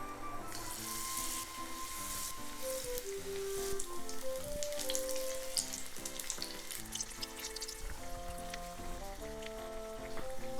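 Sweet potato slices for tempura sizzle steadily in hot oil, a soft continuous crackle heard at moderate distance, with light background music playing throughout.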